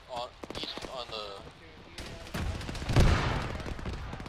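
A tank's machine gun firing in an Arma-style military game: bursts of automatic fire rise in the second half, loud and close, after a player speaks briefly at the start.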